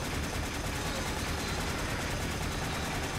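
Dense, rapid gunfire in the sci-fi shooter Warframe rattles continuously at moderate loudness, forming an unbroken wash of automatic shots with no pauses.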